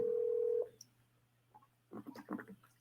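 A steady dial tone cuts off, then a quick run of telephone keypad beeps sounds as a call is dialled, fairly close and clear with no talking.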